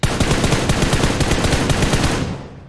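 Rapid automatic gunfire from the mobile battle-royale game PUBG Mobile, a dense loud burst of repeated shots lasting over two seconds before trailing off, with no talking over it.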